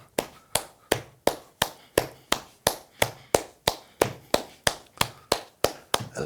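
An audience at a school arts festival claps along to a counted rhythm, about three sharp, even claps per second, crisp and close, steadily repeating without talk.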